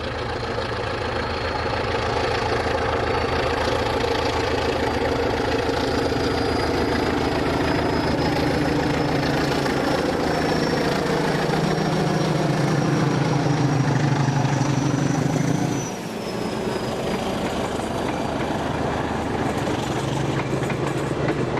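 Portuguese diesel locomotive 1416 departs Ferradosa eastbound, hauling a Pocinho-bound train: a steady, loud engine drone with rumbling wheels builds, then briefly drops away near the end before the throb resumes.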